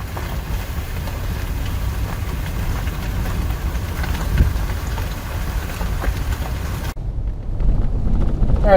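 Strong, cold wind in the Oregon desert roars and buffets the microphone continuously, a loud broadband rush that swells and surges, then cuts out briefly before returning with renewed force.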